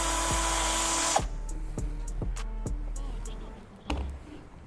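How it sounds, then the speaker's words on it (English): A power drill bores through the plastic bumper of a Subaru BRZ / Toyota GT86 sports car: a loud steady whir for about a second, then it stops, leaving quieter clicks and handling sounds. "we're going to drill through the plastic bumper"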